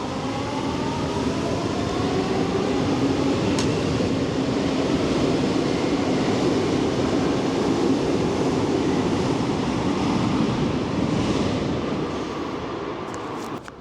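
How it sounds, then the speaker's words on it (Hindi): A train moves through Oriente station in Portugal with a steady, loud rumble of wheels and carriages. The roar holds nearly constant and then begins to fade toward the end. "और ट्रेन आ भी गई है और निकल रही है।"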